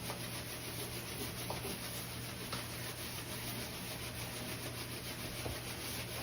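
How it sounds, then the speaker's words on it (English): Old paint being scraped off a window in a foreclosed house, a faint, continuous rasping rub with a few small scratches and ticks and no voices. "So I'm going to do a little bit of scraping here on some of this"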